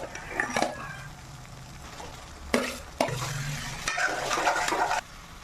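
Chicken pieces sizzle and are stirred into roasted masala in a pan, with bursts of scraping and hissing between quieter stretches of frying.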